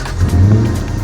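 A supercharged Lexus F car engine revs at a sunrise car meet, a brief loud rising roar with a low throaty drone, close by and on its own.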